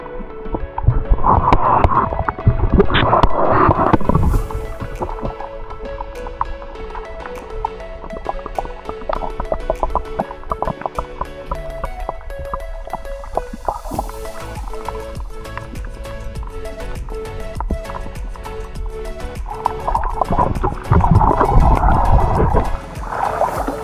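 A speedboat engine drones steadily while island hopping in Tawi-Tawi, as water splashes and rushes past, with louder surges of spray at the start and end.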